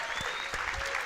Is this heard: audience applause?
yes